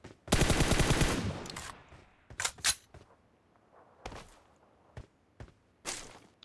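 Groza assault rifle fire in PUBG Mobile, opening with a long loud automatic burst followed by several short, sharp bursts and single shots, with no talking.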